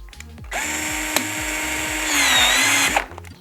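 A Milwaukee C12 PPC-0 cordless PEX pipe cutter cuts a thin-walled pipe with a close, steady motor whir that rises slightly toward the end, over faint rhythmic ticking, and then winds down.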